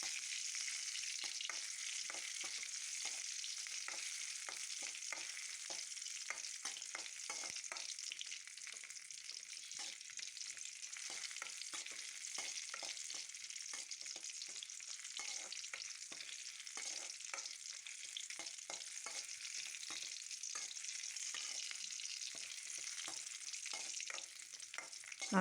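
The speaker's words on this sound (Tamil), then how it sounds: "கொஞ்சம் இஞ்சியும் 4 பல்லு பூண்டும் போட்டுக்கலாம். அதோட ஒரு பச்சை மிளகா கிள்ளி போட்டுக்கலாம். நல்லா வதக்கி விட்டுக்கலாம்." Ginger, garlic and green chili sautéing in a pan for kara chutney: a steady, crackling sizzle with a rapid run of stirring scrapes and ticks, continuous and fairly close with no voices.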